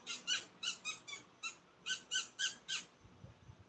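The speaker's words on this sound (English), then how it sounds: "That's the sound of the bat," A bat that flies at night and feeds on tree flowers gives a quiet run of about eleven evenly spaced, rasping squeaky calls, each short and sharp, then falls silent.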